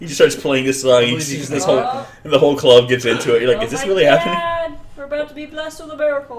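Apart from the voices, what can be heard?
No everyday noises stand out.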